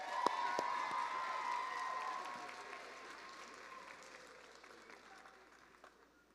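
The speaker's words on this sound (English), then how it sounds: "Y'all give Ms. Santos another round of applause" Graduation audience at a training academy commencement claps for the commencement speaker, a dense wash of applause with a few sharp nearby claps and light cheering that slowly fades out over several seconds, with some voices underneath.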